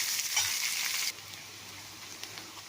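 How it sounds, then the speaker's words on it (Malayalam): Chopped onions sizzle and fry in a pan for a potato and okra masala curry, a steady close hiss that drops noticeably quieter about a third of the way in and keeps sputtering softly, with no talk. "അതിലേക്ക് ഇനി അരിഞ്ഞ് വെച്ചിട്ടുള്ള സവാളയും കൂടി ഇട്ട് കൊടുക്കണം."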